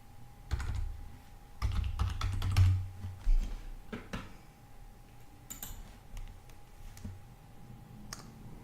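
Keys clatter on a computer keyboard in short irregular bursts as a user password goes in, close and fairly quiet, with brief pauses between clusters of clicks.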